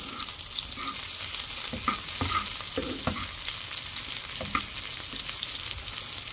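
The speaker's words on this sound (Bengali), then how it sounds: "এখন সামান্য একটু পেঁয়াজটাকে একটু বেরেস্তা করে নেব।" Sliced onions browning in hot oil, with a continuous bright sizzle and occasional small pops and stirring scrapes, heard alone without talk.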